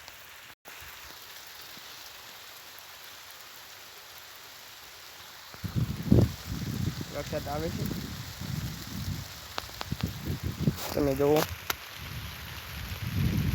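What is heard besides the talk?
rain falling on the ground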